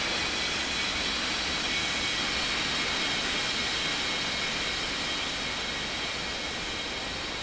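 Airliner engines roaring steadily as it takes off from runway 21 right at a simulated airport, a dense continuous rumble with a faint high whine, sustained and unbroken, with no voices.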